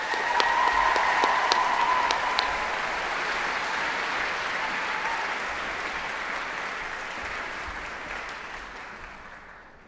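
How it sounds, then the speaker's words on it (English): Audience applause after a choral piece at The Big Sing 2022 gala concert rings out loud and dense with a few sharp claps at first, then gradually thins and fades toward quiet. "Another round of applause,"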